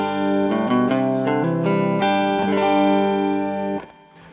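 Clean electric guitar on the neck pickup with no drive, the tone control set about three-quarters up, playing a run of sustained, ringing notes and chords that fade out at the end; no talking.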